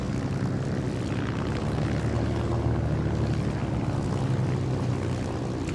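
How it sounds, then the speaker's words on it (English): A Hawker Hurricane with a Merlin engine comes in to land at an RAF airfield, its propeller engine droning steadily and loudly throughout, a continuous rumbling roar with no voices over it. "Hurricane landing"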